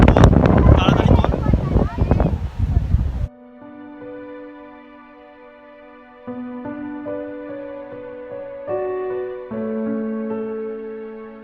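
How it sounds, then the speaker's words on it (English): Gusty breeze buffets the microphone outdoors in Punakha, Bhutan, a loud rough rumble for the first three seconds before it gives way to steady music. "it's actually very breezy here"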